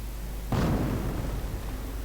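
A mortar round fires in a World War II battle game, one sudden heavy boom that swells fast and rolls off over about a second and a half, loud and close, with no voices.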